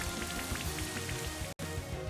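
Rain Dance move in Pokémon Brilliant Diamond: a dense, steady patter of game rain falls continuously, with repeating low musical tones underneath and a momentary dropout near the end.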